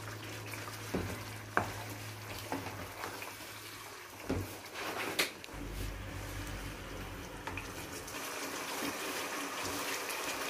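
Spiced masala mixed with two spoonfuls of yogurt frying in a pot for chicken aloo curry, a steady low sizzle with scattered stirring clatter and spoon knocks, fairly quiet throughout.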